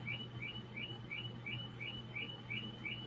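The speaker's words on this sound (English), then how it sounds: "Somebody's annoying CVO alarm is going off now." An electronic alarm chirps at a campground during Biketoberfest, giving short high chirps at a fast, even pace about three times a second. The chirps are faint and sound over a low steady hum.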